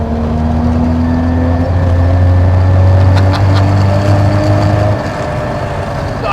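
Toyota-engined Mazda RX7 scrapyard find under way, its engine giving a steady loud drone with a low rising pitch that holds for about five seconds, then eases back as the car keeps driving.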